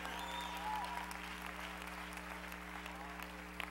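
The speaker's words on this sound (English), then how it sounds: "You better clap" A church congregation claps during a sermon, a faint, steady wash of applause heard at a distance over a low electrical hum.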